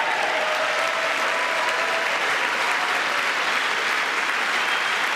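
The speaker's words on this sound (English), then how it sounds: "I'm clapping IRL." Sustained, dense applause from a large crowd at a State of the Union address, an unbroken roar of clapping with a faint voice tone threaded through it.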